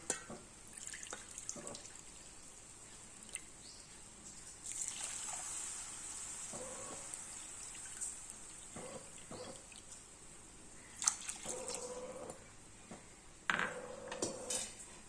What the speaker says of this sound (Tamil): இப்போ நம்ம ரெண்டு கப்பு தண்ணி ஊற்றிக்கலாம்